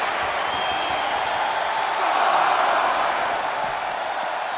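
Arena crowd in a WWE 2K24 wrestling match between Brock Lesnar and Bron Breakker, a steady, dense roar of cheering that swells slightly midway and holds loud throughout without pause.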